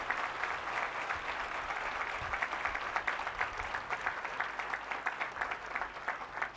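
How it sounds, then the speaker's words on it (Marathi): An audience at a Guru Purnima spiritual gathering claps in a sustained, even burst of applause, a dense patter of hands from a large crowd heard alone without talk. "मोठ्याने टाळ्या व्हायला पाहिजे."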